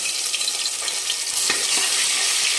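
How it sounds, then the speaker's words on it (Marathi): A ginger, garlic and coriander paste fries in hot oil for a spicy mutton curry. A loud, steady, hissing sizzle carries on throughout, close by, with faint stirring scrapes and no speech. "आलं लसूण आणि कोथिंबीरची पेस्ट ते टाकून घेणार आहे"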